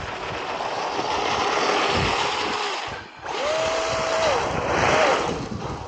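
A Traxxas Maxx Slash RC car runs at full throttle on frozen ground. Its electric motor gives a loud, steady, high whine, drops briefly mid-clip, then surges again with rising and falling pitch.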